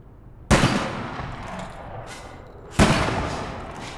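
Two sharp sniper shots in APB Reloaded, about two seconds apart, each a loud crack with a decaying echoing tail and a fainter thump between them.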